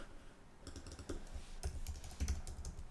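Close, quiet typing on a computer keyboard, irregular bursts of soft key clicks starting after a short pause and growing denser toward the end, with no voice.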